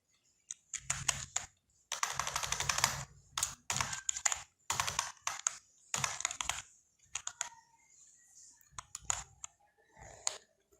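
Quiet, close-up typing on a computer keyboard while coding an Android notes app, with quick bursts of clicking keystrokes separated by short pauses.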